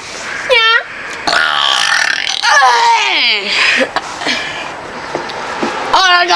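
Repeated loud burps from a young girl in a playful burping contest at home, several long croaking belches with laughter and chatter between them.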